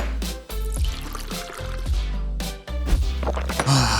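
Water glugs out of a large plastic bottle and gets gulped down, heard as a steady close-up pour with low gurgling pulses that break off briefly a couple of times before the flow resumes.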